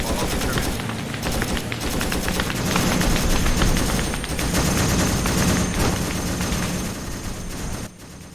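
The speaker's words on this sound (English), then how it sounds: "We're taking fire" Heavy incoming gunfire in the Vietnam War game SOG Prairie Fire, dense automatic bursts and cracking shots rattling continuously for the whole stretch, loud and close, with a brief drop near the end.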